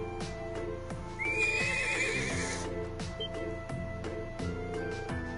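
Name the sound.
young horse neighing in a video game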